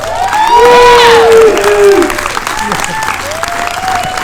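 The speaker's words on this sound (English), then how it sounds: "An applause for Lexy, an applause for the dress." An audience at a film premiere event for the movie Freaks claps and cheers loudly, a swelling burst of applause with whoops and shouts that then tapers off, crowd voices mixed in.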